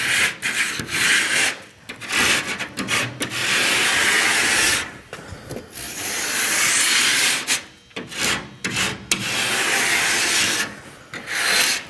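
A drywall rasp scrapes along the cut edge of a drywall sheet in repeated rough strokes, loud and close, with short pauses between bursts of gritty rubbing.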